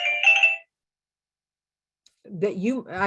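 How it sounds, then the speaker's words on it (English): A mobile phone ringtone plays briefly and loudly with a bright, steady tonal pattern, then stops; after a short silence a person starts speaking. "I'm going to silence my phone."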